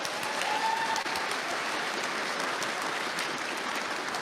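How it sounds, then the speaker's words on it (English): Audience applause at a live debate event, a continuous, even wash of clapping heard at moderate distance, steady throughout without a clear break. "Oh, and I got an applause break too."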